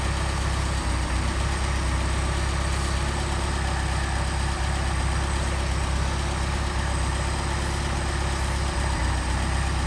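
A Mercedes 190SL engine on Solex carburetors that has not run in a long time, idling steadily with a loud, even mechanical drone heard up close, with no talking.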